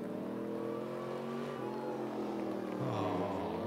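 A BMW at a spectator drag race at Rockford Speedway eases off, its steady engine drone holding loud and continuous, then dropping to a lower pitch near the end as it slows.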